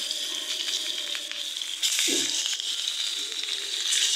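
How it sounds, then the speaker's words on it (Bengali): Fish dropped into hot oil in a wok bursts into a loud, hissing sizzle that swells partway through and keeps crackling steadily, close up and with no talking. "কড়াই তেল গরম হয়েছে, মাছগুলো দিয়ে দিলাম।"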